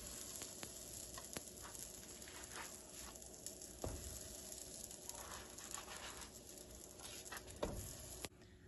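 Cheese and requesón gorditas sizzle softly on a griddle in a little oil, a quiet steady frying hiss broken by a few sharp clicks and taps.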